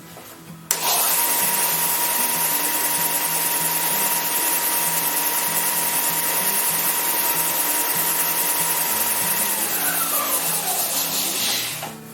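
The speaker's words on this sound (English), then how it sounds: "Turn your sander back on and listen for noise." A repaired WEN benchtop sander switches on with a sudden start, then runs at a steady loud motor whine and hum close by for about eleven seconds before beginning to wind down.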